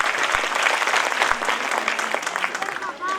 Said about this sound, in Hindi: तो जोरदार तालियां तो बनती है इन प्राइमरी स्टूडेंट्स के बच्चों के लिए